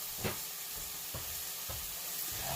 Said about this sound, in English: So we're just going to keep frying.